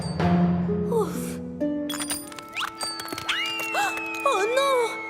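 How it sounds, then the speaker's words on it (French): Percy's small bell from Thomas and Friends rings in several bright, ringing strikes with rising and falling tones, mixed with cartoon sound effects and excited animated voices. "Oh non! La cloche de Percy!"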